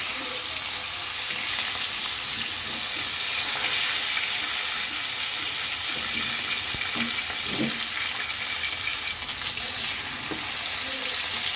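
Fish frying in a pan for a Bengali fish curry, a steady close hiss and crackle of oil that runs evenly throughout with small spattering pops and no talk.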